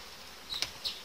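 Honeybees buzz around a hive frame in an overdeveloped colony, a soft background drone with a few brief, closer buzzing passes standing out near the end.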